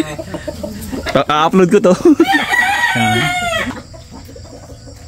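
Chickens cluck and a rooster crows close by at a Filipino breeder's home, mixed with someone talking over the birds.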